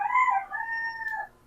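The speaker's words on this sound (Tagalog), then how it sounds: "Tumunog yung manok ko." A rooster crows once in a single drawn-out call, moderately near but fairly quiet, with no other sounds around it.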